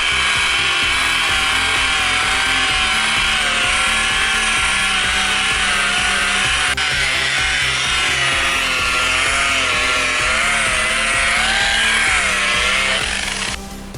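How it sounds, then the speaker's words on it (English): A power buffer whines continuously as it polishes a foggy, yellowed car headlight with polishing compound. The motor runs loud and close with a wavering pitch for about fourteen seconds, then cuts off near the end. "just cover the whole headlight, and we're going to buff it again"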